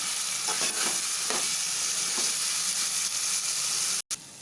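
Chicken frying on high heat in a pan, a dense continuous sizzle with soft stirring scrapes, loud and close, briefly cut near the end, with no talk.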